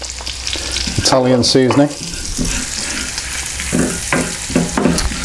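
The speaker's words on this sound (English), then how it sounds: "So just going to fry this gently for about 2 minutes." Smoked pancetta frying gently in a pan, a steady close sizzle with faint stirring scrapes, while a person talks briefly over it.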